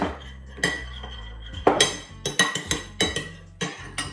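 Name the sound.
mixing soy sauce with oyster sauce in a bowl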